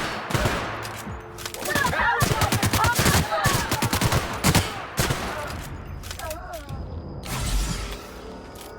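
Rapid bursts of pistol fire in The Outer Worlds, dense clusters of sharp cracks repeating through most of the stretch, loud and close, with mechanical clanks and a voice talking between shots.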